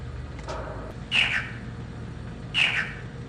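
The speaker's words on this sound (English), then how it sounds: "this was the sound of the frog we caught" Frog call from the video game Riven: two short, bright squawking croaks about a second and a half apart, moderately loud over a low steady ambient hum.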